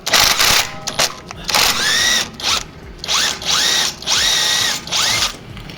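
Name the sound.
pneumatic impact gun removing shock absorber bolt on Audi A5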